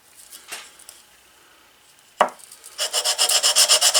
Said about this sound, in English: I'll just try to flatten this out a bit on some sandpaper.